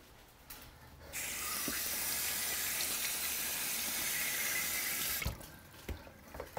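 Red and yellow peppers are rinsed under a running kitchen tap, a steady close rush of water lasting about four seconds, bracketed by quieter handling and small knocks before and after.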